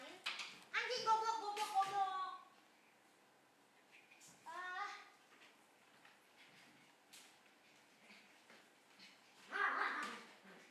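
A dog barks and whimpers in a few short bursts, with quieter stretches between, fairly faint and set against a soft room background.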